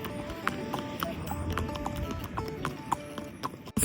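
A horse is ridden along a trail at Naldehra near Shimla, its hooves clip-clopping in a quick, fairly even rhythm close by, with people talking over the steps.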